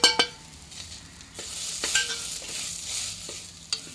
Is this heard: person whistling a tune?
no